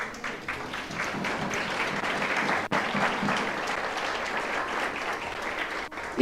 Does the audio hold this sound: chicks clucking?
no